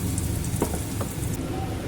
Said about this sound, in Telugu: ఉడికించిన రొయ్యల్ని గోల్డెన్ కలర్ వచ్చే వరకు ఫ్రై చేద్దాం